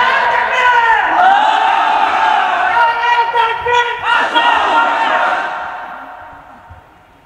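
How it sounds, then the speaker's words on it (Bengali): A large crowd at a Bengali religious sermon roars a takbir (Allahu Akbar) in unison, a loud sustained collective shout that swells, dips briefly, surges again, then tapers away. "একটা তাকবীর দেন, যেই তাকবীর এই এলাকার মধ্যে আগে কোনোদিন হয় নাই"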